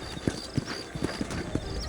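Horse hooves clip-clop at a walking pace in a Red Dead Redemption cutscene, set in the town of New Ulster, several steady thuds over a dense ambient bed, with a faint whinny-like tone.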